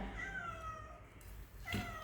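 A cat meows near a person picking apart cooked fish, likely climbing-perch, for a Thai chili fish dip. Its whiny cries come in two drawn-out calls, one early and one near the end, over quiet kitchen background noise.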